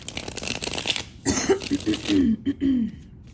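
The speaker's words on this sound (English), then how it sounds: "Let me get a good shuffle." Tarot cards are shuffled by hand in a steady riffling rustle up close for about a second, then a person's voice follows with hummed, pitched sounds.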